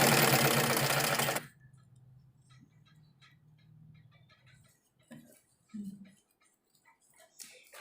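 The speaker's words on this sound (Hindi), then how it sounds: "और फिर इस तरह हमें इसके ऊपर भी सिलाई लेकर चलना है।" Sewing machine stitching kurta fabric, a dense rapid stitching burst at the start, then soft intermittent ticks and faint handling sounds.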